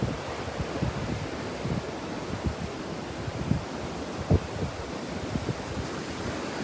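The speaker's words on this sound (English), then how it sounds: "Just another day at the beach" Steady beach ambience at Juno Beach Pier, with waves washing in and gusty wind buffeting the microphone, a constant broad roar with occasional low bumps.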